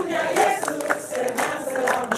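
A church congregation claps hands in rhythm while singing a chorus together, the sharp claps landing in a steady beat under the group's voices.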